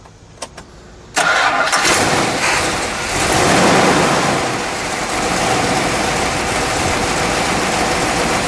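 A 1970 Dodge Charger R/T with a 426 Hemi V8 fires up with a sudden burst, then settles into a loud, rough, close idle with a slight surge in the middle and no talk.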